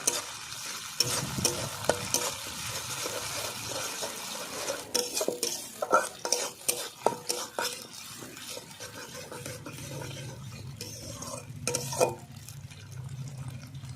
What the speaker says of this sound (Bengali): আদা বাটা আর কাঁচা লঙ্কা বাটা একই সঙ্গে দিয়ে দিলাম দুটো ভালো করে কষিয়ে নেব